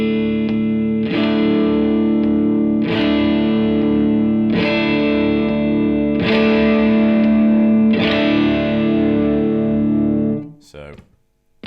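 Electric guitar played through a Bleak District Terra Overdrive pedal set near clean: five ringing strummed chords, each left to sustain, then a brief string scrape and silence.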